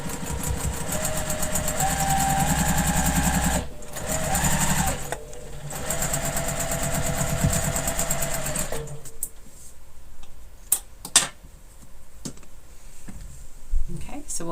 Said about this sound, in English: to take this back over to the machine and sew these two together